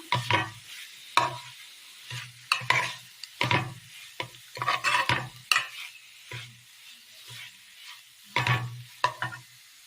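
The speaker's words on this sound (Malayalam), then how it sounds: "അരിഞ്ഞു വെച്ചിരിക്കുന്ന മുട്ട ചേർത്ത് കൊടുക്കാം നല്ലതുപോലെ ഒന്ന് മിക്സ് ചെയ്തെടുക്കാം" Chopped egg being stirred into a Kerala-style curry in a pan, with repeated scraping spoon strokes in an irregular rhythm, close and fairly loud, and a light sizzle underneath.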